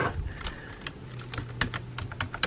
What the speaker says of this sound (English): I just start typing whatever I want to type